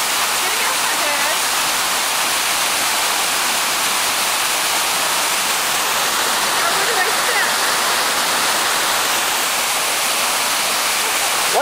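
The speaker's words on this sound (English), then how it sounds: "Great Georgia Adventurers, braving a waterfall." Minnehaha Falls pours in a steady, loud broadband roar of falling water that stays close and constant throughout, with no voices breaking through.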